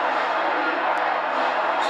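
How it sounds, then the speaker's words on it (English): Roaring crowd noise fills a college football stadium during an Iowa State Cyclones versus Iowa Hawkeyes game, a steady loud wash of cheering and yelling from many fans throughout. "So this crowd is making their presence felt."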